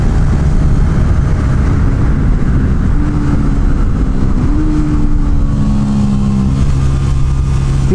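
A KTM RC motorcycle engine drones steadily on a racetrack, holding a loud sustained whine with a couple of small pitch shifts as the revs change.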